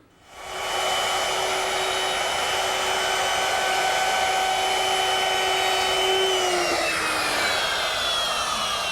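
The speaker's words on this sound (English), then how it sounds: "I made it using my router equipped with a V-groove bit and the guide fence" A router fitted with a V-groove bit runs against a guide fence on oak planks. It gives a loud, steady high whine that starts quickly and holds, with a slight pitch drop near the end and no speech.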